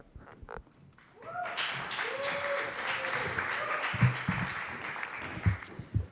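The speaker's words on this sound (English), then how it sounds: "give a big round of applause for a HACKcelerator alumni, Crystal from Tesla" Audience applause at a tech demo day event after a speaker from Tesla is introduced, starting after a brief pause and building into steady clapping with scattered louder claps and faint background voices.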